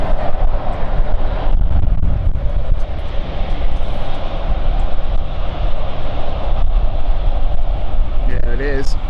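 An ITA Airways jet at London City Airport roars with loud, steady engine noise throughout, a broad rumbling thrust close by, with a voice talking over it.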